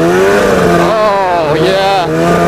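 A Ski-Doo MXZ 700 snowmobile carving, its two-stroke engine loud and close with a strong harmonic whine that wavers in pitch as the throttle shifts.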